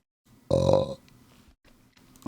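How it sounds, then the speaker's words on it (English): A single loud, close burp of about half a second, rough and voiced, with quiet mumbling and breaths around it. "you got to burp just to make the pretentious people leave"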